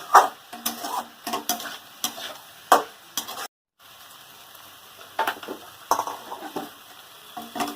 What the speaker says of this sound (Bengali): এরকমভাবে কিছুক্ষণ নেড়ে তেলের সঙ্গে মোটা আলু বেগুন সব নেড়ে তারপরে জল দিয়ে দিই